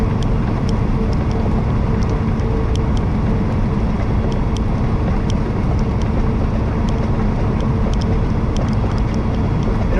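Inside the cab of a Peterbilt 389 truck with an 18-speed transmission, a steady, loud rumble of engine and road noise drones on without a break, broken only by faint ticks.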